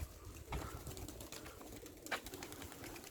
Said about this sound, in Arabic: بصوا الحمام هنا في الاخر واقف على الابراج اهو